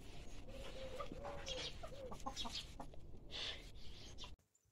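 Kadaknath chickens cluck and murmur steadily close by, several birds overlapping, over a constant low background rumble that cuts off abruptly at the end.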